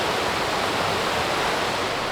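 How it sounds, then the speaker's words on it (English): A waterfall beside a walking path in the Lake District roars in a dense, steady, broadband rush of falling water, close and continuous, with no voices. "down here to my right is the waterfall"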